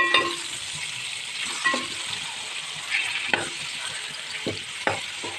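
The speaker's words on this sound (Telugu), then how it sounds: "ఇప్పుడు దీన్ని ఒక ఫార్టీ పర్సెంట్ ఇలా ఫ్రై చేసుకుంటే సరిపోతుందండి" Chicken leg pieces fry in a pan with a steady, close sizzle, broken by occasional stirring scrapes and soft knocks as the pieces are moved.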